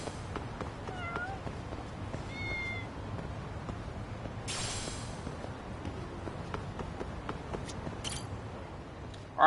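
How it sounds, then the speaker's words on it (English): Stray cats in the video game Lost Judgment give several short, high meows scattered across a low ambient background, with a brief rustling burst midway and a sudden loud noise at the very end. "We have to go feed stray cats now?"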